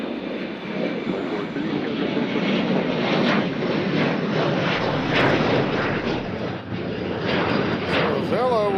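A Southwest jet departs Nashville International Airport with a loud, continuous engine roar that holds steady for several seconds, overlaid by intermittent radio chatter and nearby voices.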